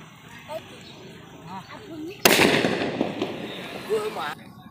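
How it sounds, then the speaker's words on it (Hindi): A foil bullet bomb firecracker bursts midway with a single sharp, loud bang and crackling tail that fades over about two seconds, with people talking before and after. "तो अब चलाते हैं इस फॉइल वाले बुलेट बम को।"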